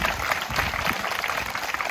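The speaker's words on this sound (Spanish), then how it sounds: "Vamos a darle un aplauso al Espíritu Santo, al Espíritu de Dios." A church congregation at a parish retreat applauds, steady clapping from a crowd heard at moderate distance for a couple of seconds.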